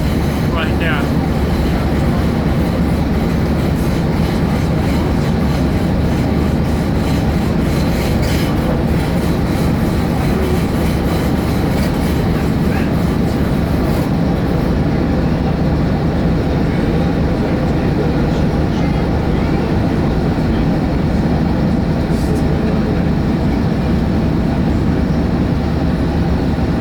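A Green Cargo freight train rolls past on Swedish rails, a steady loud rumble with clattering wagon wheels lasting throughout, its high rattle easing partway through while the low roar continues.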